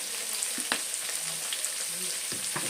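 Onions, green chillies and curry leaves fry in a hot pan, giving a steady close sizzle with a few sharp crackles and pops throughout, no voices.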